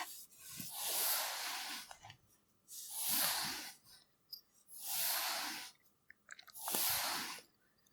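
Soft bristle strokes brushing out a furry costume tail on a wooden table, four slow, even sweeps with short pauses between them, quiet and close.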